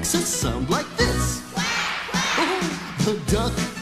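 A voice imitates a little white duck, making a series of quick, nasal quacking sounds in a bouncy rhythm over music at a Barney concert singalong.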